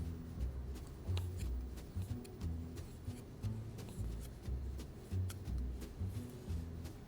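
A knife slices through a chorizo on a board in a kitchen, a quiet series of short, rhythmic cutting and scraping strokes close to the microphone.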